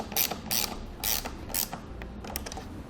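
Bolts with lock washers are tightened on a Rhino-Rack Vortex roof rack mounted on a 2016 Honda CR-V, making a series of about five close, sharp ratcheting creaks in a loose rhythm, then fainter clicks.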